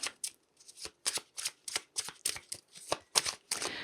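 Tarot cards are shuffled by hand in a quick series of crisp riffles and slaps, close and fairly quiet, ending in a longer rustle as a card is drawn.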